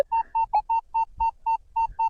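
A metal detector beeps repeatedly over a buried copper coin while digging for Scythian-era finds, giving about ten steady, evenly spaced tones in quick succession, close and clear with faint low rumbles between beeps.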